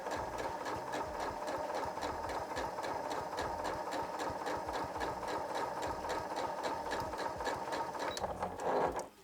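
A sewing machine stitches a fabric scrunchie seam in one continuous run, its needle clattering in a rapid, even rhythm close by until it stops at the end.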